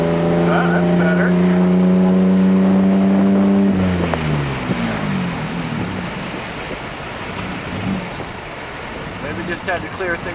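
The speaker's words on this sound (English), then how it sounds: "that blow-off valve's still not opening though. I can hear the flutter" A Mazda MX6 V6 turbo engine revs with a steady whine, then drops off into a rough, rapidly fluttering rush of air from the blow-off valve area, close and loud.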